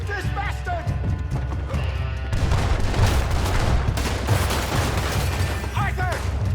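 Gunfire in Red Dead Redemption 2 during a shootout at Clemens Point, with dense rapid shots and booms over game music while voices shout over the fighting.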